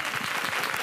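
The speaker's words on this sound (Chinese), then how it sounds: "掌声鼓励" Studio audience applause on a Taiwanese talk show, a dense burst of many hands clapping together, loud and close, lasting under a second.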